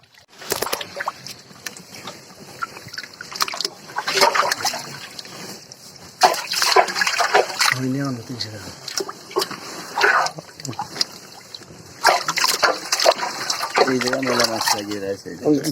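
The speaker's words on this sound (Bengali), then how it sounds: "পানিটা এইভাবে ঝর্ণা দিয়ে দিচ্ছেন হাত দিয়ে যাতে মাছগুলো তলিয়ে যায়" Water is splashed by hand into a shrimp pond enclosure, with repeated splashes and trickling water outdoors close by while people talk throughout.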